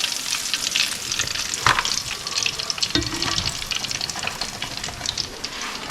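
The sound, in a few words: speckled trout frying in hot grease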